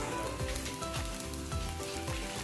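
Coconut masala paste sizzles softly in a pan for a Kadamakkudi-style crab and plantain curry, a quiet, continuous frying crackle with a faint repeating low thump and no talking.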